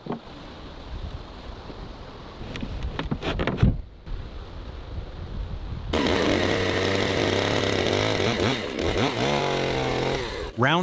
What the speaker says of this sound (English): Round holes are being cut into the wooden deck for the railing.